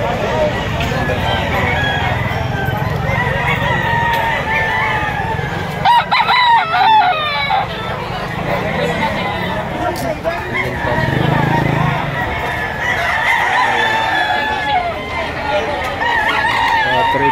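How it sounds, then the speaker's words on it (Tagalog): Roosters crow and hens cluck amid a busy, crowded chicken market hubbub, with people talking throughout and birds calling from several directions. "Napakarami pang manok dito."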